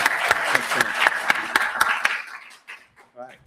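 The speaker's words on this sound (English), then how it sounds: "round of applause for Professor Bottle" Audience applause after a speech at a university debate between Imperial College and LSE, brisk clapping with distinct sharp claps that fades out after about two seconds, followed by a voice speaking.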